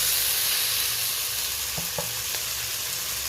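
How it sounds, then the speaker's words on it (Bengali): Turmeric and Kashmiri red chili powder frying with fried onion and tomato in a pan, a steady close sizzle with a few soft spatula clicks partway through, no talk. "এইটা এবার আমি ভেজে পেঁয়াজ ভাজা আর টমেটো ভাজার সাথে দিয়ে দেবো"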